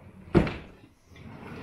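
A makeup-room drawer gives a single sharp bump as it shuts, followed by a brief quiet and a soft sliding rustle, recorded close and fairly loud.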